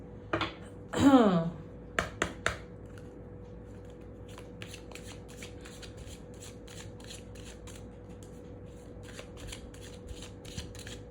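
Tarot cards being shuffled close by: a loud riffle early on, then a string of crisp, rapid card flicks and slaps in short bursts, quiet and alone, with no talk.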